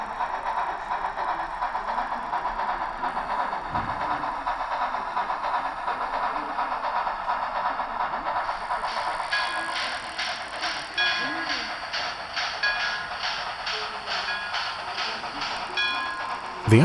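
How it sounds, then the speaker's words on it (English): A Märklin 38700 Shay steam locomotive model, new for 2025, runs with a steady mechanical hum. Partway through, a quick, regular clicking chuff joins in, close and moderately loud, with no voices. "you'll enjoy listening to the sound of the locomotive nonetheless"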